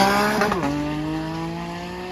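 A Porsche 911 GT with a naturally aspirated 4.0 engine roaring loudly nearby, its strong revving pitch swinging and then settling into a sustained high drone, with no one speaking.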